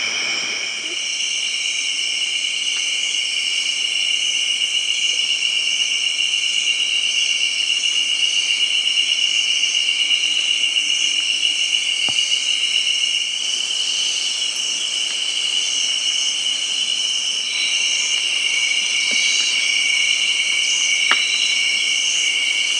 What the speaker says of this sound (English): The crickets scream in the black